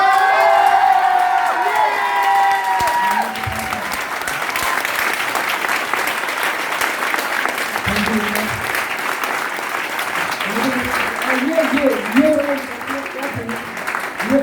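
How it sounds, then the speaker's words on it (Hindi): An audience in a hall claps steadily and loudly throughout, a dense wash of applause with some cheering and voices rising over it, and a speaker talks intermittently near the end. "बड़े होकर ताली नहीं बज रही है अभी भी। अच्छा अब बजेगा।"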